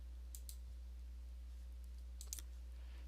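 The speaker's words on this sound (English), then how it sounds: "Just click on the number under the agent's idle." A couple of faint mouse clicks while selecting an agent number in contact center supervisor software, one early and another about two seconds later, over a steady low electrical hum.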